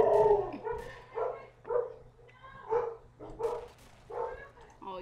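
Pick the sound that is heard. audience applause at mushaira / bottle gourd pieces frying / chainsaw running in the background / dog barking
dog barking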